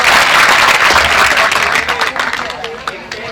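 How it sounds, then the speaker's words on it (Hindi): An audience claps loudly together at a gathering in the Parasia range of West Chhindwara, with dense applause and crowd murmur that thin into scattered individual claps toward the end. "तालियां बजाइए।"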